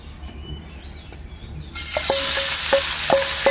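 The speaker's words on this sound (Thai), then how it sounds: "นำเห็ดหอมมาผัดกับน้ำมันที่เราซ้อนเอาไว้เมื่อสักครู่นี้นะคะ" Shiitake mushrooms drop into hot oil. A bright, loud sizzle starts partway through and keeps going, with a few light metallic clinks from stirring.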